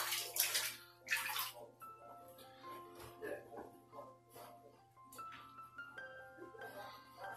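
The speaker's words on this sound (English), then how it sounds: "My water was still draining." Water draining from a bathtub, soft trickles and gurgles that keep on under a woman's intermittent speech and small bathroom handling noises, close and quiet.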